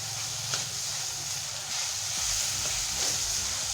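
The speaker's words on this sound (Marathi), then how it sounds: "आता आपण यामध्ये ढोबळी मिरची घालून घेऊया, आणि आपल्याला ही ढोबळी मिरची ही छान भाजून घ्यायची आहे" Bell pepper frying with onions in a hot pan for a spicy masala pav filling gives off a steady, close sizzling hiss that swells slightly toward the end.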